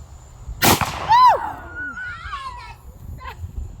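A single sharp gunshot from an AR-15 pistol cracks loudly near the start, followed by excited vocal reactions and voices afterward.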